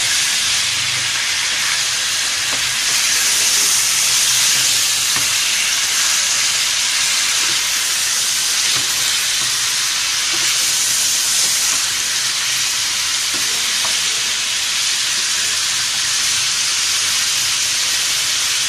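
Chicken Chugtai karahi frying in a pot, giving a steady, loud, broadband sizzling hiss that carries on evenly for the whole stretch with no talking.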